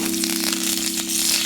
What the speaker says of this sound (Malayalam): നല്ലപോലെ കറിവേപ്പില പൊരിയണം.